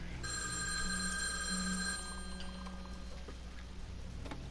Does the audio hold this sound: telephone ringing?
yes